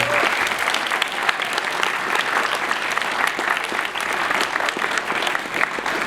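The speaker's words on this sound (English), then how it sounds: "So big round of applause if you could for those guys." A large audience applauds steadily and continuously at a convention closing ceremony, a dense, even wash of clapping with no talk over it.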